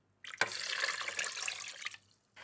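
About 500 ml of water is poured steadily into a cooking pot for roughly a second and a half, a close, continuous splashing stream that stops abruptly.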